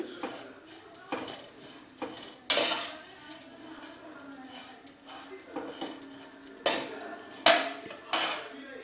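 Vermicelli roasting in hot ghee in a pan, stirred with a metal spoon: repeated sharp scrapes and clanks against the pan at a steady pace over a constant hiss, fairly close.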